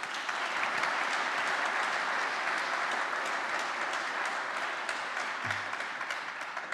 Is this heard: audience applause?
yes